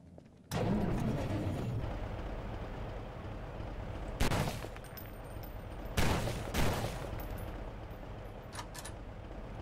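Gunshots in the Garry's Mod horror game: a sharp shot opens a steady loud rumble, followed by a few more distinct reports spaced a couple of seconds apart, all without talking.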